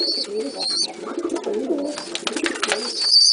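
Pigeons cooing in a loft, soft repeated coos close by with some chirps and fluttering, steady and fairly loud, no talking.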